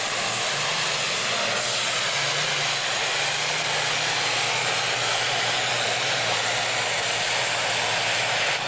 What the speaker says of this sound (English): Dale Fry starting to build heat. RPM slowly starting to come up